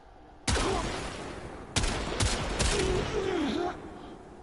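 Rubico Prime rifle shots in the Warframe video game: four loud, sharp, widely spaced gunshots, each with a ringing tail, with a voice talking briefly between the later shots.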